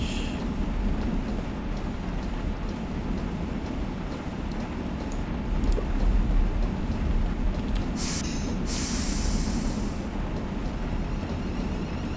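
A train passes in Train Simulator 2018 on the Havant to Portsmouth line, a steady broad rumble of wheels and motion running throughout, with a brief hiss of air midway.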